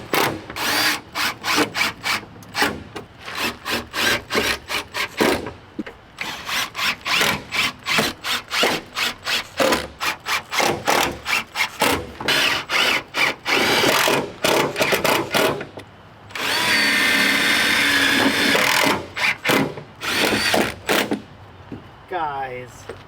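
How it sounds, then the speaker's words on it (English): A power drill drives screws into custom door panels inside an adventure van, giving rapid close bursts of buzzing and ratcheting with short gaps and a longer sustained whine near the end. "I'm putting these last screws in."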